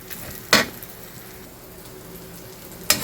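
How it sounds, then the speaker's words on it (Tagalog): Chicken hotdogs sautéing in a pan, a soft steady sizzle with two sharp scraping stirs of a utensil, quiet and close, no talk. "igisa-gisa lang natin ganyan guys, halu-haluin"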